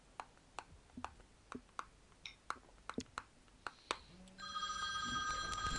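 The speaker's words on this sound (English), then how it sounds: "Oh, I forgot to turn my other phone off." A mobile phone rings with repeated short bright chimes in a steady rhythm, then switches to a louder sustained electronic tone near the end, heard close and alone with no talking.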